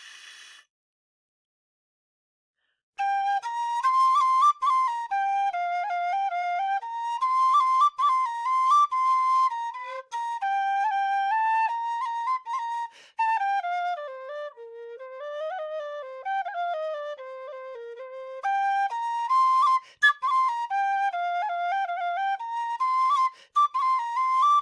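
Lightweight tin whistle playing a quick, ornamented tune, clear and close with bright piercing tones, continuous phrasing after a short silent start, played solo with no talk.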